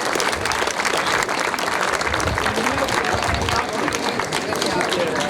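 Loud, sustained applause from an audience, dense clapping filling the room with a few cheers mixed in throughout.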